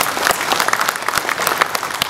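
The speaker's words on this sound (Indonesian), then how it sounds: "Tepuk tangan." Indoor audience applause fills the hall at a swearing-in ceremony for neighbourhood RT and RW leaders, a steady crowd clapping sustained loudly throughout with no voices on top.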